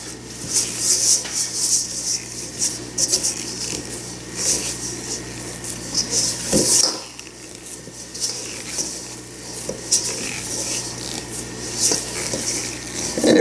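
Food colouring stirred into macaron batter in a bowl, a continuous soft scraping and sticky swishing with small clicks of the utensil against the bowl, close and steady throughout, no talking.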